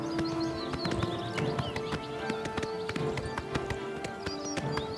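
Rapid hooves of a horse galloping in the video game Oblivion Remastered, a steady, close clip-clop rhythm running through the whole short stretch, with occasional snorting and no talk.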